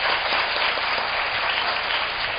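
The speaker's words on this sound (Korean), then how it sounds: "백민지 사무관님 그리고 신예슬님께 다시 한번 큰 박수 부탁드리겠습니다" Audience applause at the close of a presentation at an internship information session, a dense, steady wash of clapping from many hands throughout.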